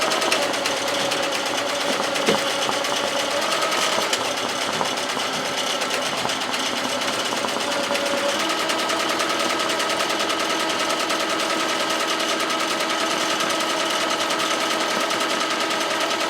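A sewing machine stitches a sunflower tote bag, its steady rapid mechanical chatter running close and continuous, with a brief pause partway through before the stitching picks up again.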